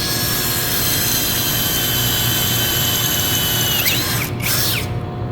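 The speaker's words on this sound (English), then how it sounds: "So here I've got a piece of 1/8 inch steel, and I'm going to be using a cobalt bit." LAZYLAND 21V brushless cordless drill bores through 1/8 inch steel with a cobalt bit, a loud, steady motor whine with grinding texture held for several seconds before cutting off abruptly near the end.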